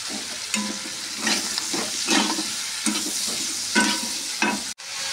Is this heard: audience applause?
no